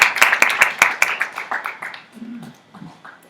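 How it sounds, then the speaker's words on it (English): Audience applause for Mr. Chitrakar at a Social Business Day event, a burst of claps loud at first and thinning out over a few seconds, with a low voice murmuring near the end. "Please give a big hand of applause to Mr. Chitrakar."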